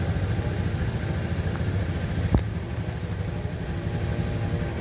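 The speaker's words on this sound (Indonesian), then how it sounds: "Ketika mesin mulai menyala." A Vario 125 motorcycle engine, with a fault that keeps blowing its 25-amp fuse, runs at a steady close idle, and a single sharp click sounds midway.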